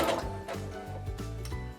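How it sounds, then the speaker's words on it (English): A sewing machine runs a seam along the side of a quilt block, giving a quiet, steady mechanical hum with faint ticking throughout. "we're going to sew along this side."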